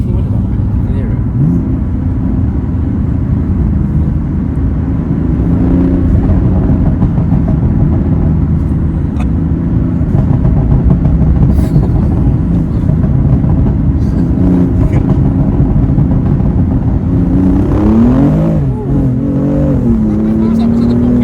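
BMW M4 Competition LCI F82 engine accelerating under load from inside the cabin, a loud sustained drone rising in pitch, with voices talking over it and a short climbing rev near the end.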